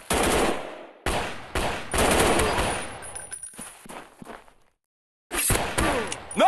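Automatic gunfire rattles in the mobile shooter Gun Strike War, loud close bursts of rapid shots separated by brief gaps and a short silence before a final burst.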